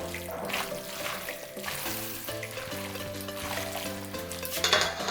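Fettuccine Alfredo sauce with cheese and pasta water is stirred in a sizzling pan, soft scraping and bubbling under background music, growing a little louder near the end.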